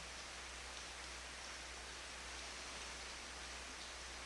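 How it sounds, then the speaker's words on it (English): Rain falls steadily as a soft, even hiss, faint and continuous, with no voices or other distinct sounds. "Listening to the rain."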